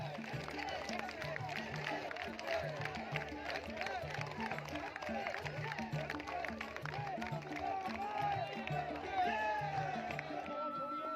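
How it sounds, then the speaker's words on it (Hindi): A large crowd of devotees at a Durga procession in Munger, a steady distant murmur of many voices with scattered claps and shouts, faint and continuous throughout. "भक्तों की भीड़ मां के दर्शन के लिए उतावली हो रही है।"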